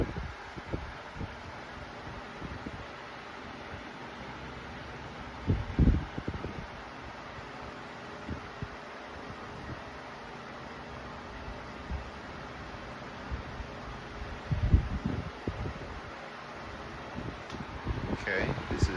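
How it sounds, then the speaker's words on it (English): Lasko oscillating large-room pedestal fan running on its high setting: a steady, soft broadband whoosh of moving air close to the microphone, with occasional low rumbling gusts and buffeting as the airflow hits the mic. "And this is the sound on high."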